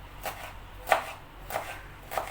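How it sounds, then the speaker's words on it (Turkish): Four crisp knife strikes chopping peppers on a cutting board, spaced unevenly about half a second apart, close and fairly quiet with no talking. "Biberleri de doğrayın."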